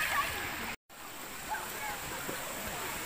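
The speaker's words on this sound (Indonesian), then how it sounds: "Welcome to Sungai Pandan Waterfall Kuantan." Water rushing steadily at Sungai Pandan waterfall in Kuantan, Pahang, a dense continuous roar filling the scene with a brief dropout near the start.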